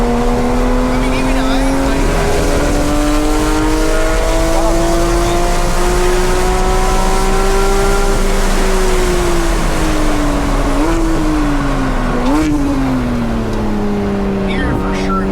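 A Porsche GT3 RS engine drones loud and close for the whole stretch, its pitch rising and falling with throttle and a couple of quick revs near the end, tailing off slightly at the finish.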